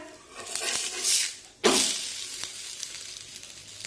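A rice-flour thalipeeth in an oiled pan gives a soft sizzle, then a sharp louder hiss as it is flipped, settling back into a gentle, steady frying sound.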